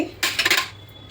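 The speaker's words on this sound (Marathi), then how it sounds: "चांगलं परतून घेते." Fenugreek, coriander and cumin seeds roasting in a kadhai, heard as one brief close clatter of metal utensil against the pan that fades quickly.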